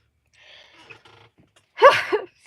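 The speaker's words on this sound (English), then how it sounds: "Oh, I might sneeze, you guys." A single loud, close sneeze bursts out after some faint background rustling during a paper craft session.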